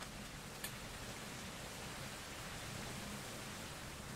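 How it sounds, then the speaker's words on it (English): Pouring rain in the video game Minecraft makes a soft, steady hiss of falling water, uniform and unbroken with one faint click early on and no talking. "Oh, pouring rain."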